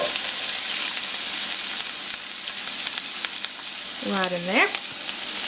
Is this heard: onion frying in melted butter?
yes